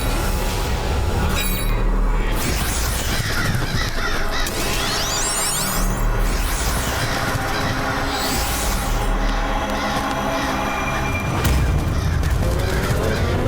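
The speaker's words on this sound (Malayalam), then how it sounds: "ഈ കാക്കകൾ മൊത്തം ഞങ്ങളുടെ പുറകെ വന്നുകൊണ്ടിരിക്കുകയാ" A flock of crows caws loudly and continuously from close by, many harsh overlapping calls filling the whole stretch with no talking.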